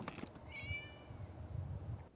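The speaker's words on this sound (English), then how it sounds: "It was just a cat." A cat in the video game Genshin Impact gives a single short meow, clear and fairly close against quiet background ambience, with no speech.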